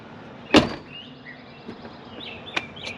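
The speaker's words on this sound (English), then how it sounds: "that was actually the best close that this door has had since I've owned it" The door of a 1989 Chevy truck, fitted with a new striker and handle, shuts with one sharp, solid close, followed by faint clicks and a small rattle, with a lighter tap near the end.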